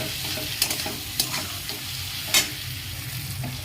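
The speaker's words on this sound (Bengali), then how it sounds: "তো এবার লাল লাল করে পেঁয়াজটাকে আমি ভেজে নেব" Sliced onion with a pinch of sugar, turmeric and salt frying in oil until reddish-brown, a steady close sizzle broken by a few sharp scrapes of a stirring spoon.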